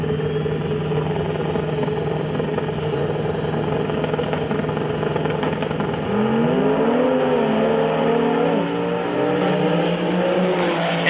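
A Dodge truck with a stack drag races a car: steady loud engine drone holds for several seconds, then a second engine swells in with rising revs and gear-change sweeps, both roaring together close by without talk.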